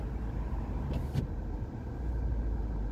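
A car driving through heavy afternoon traffic, a steady low engine and road rumble from inside the vehicle, with a brief higher whoosh of a passing vehicle near the middle.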